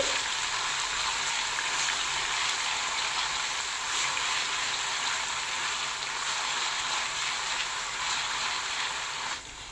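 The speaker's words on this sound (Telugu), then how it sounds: "సో అల్లం వెల్లుల్లి పేస్ట్ బాగా వేగాలండి" Ginger garlic paste fries in hot oil with a steady, even sizzle like light rain, held close and constant for several seconds before easing slightly at the end, with no talking.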